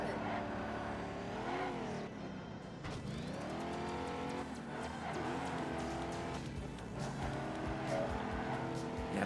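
A Ford Escort Cosworth race car engine in the Ford Racing 3 video game, revving and shifting through gears with rising and falling pitch, plus tire squeal and other cars passing, continuous and fairly loud.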